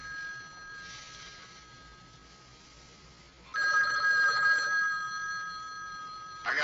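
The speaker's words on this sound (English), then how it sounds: "Pick up the phone, man." A telephone rings alone in a quiet room, with a faint electronic trill at first, then a loud bell-like burst at mid-clip and another short ring starting at the end.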